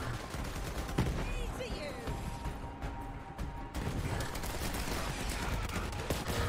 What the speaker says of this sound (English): I love these grenades.